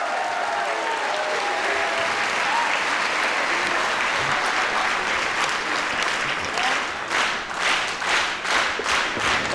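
A large wrestling crowd at a live event in Miami applauds and cheers steadily throughout, a dense, loud wash of clapping with louder rhythmic bursts near the end, while a commentator's voice sits faintly beneath.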